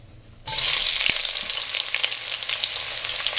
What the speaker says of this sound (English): We're just gonna put this onion into the oven.